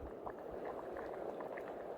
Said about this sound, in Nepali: भात पनि उम्लिनु लाग्यो